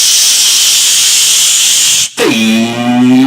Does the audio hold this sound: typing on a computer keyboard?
no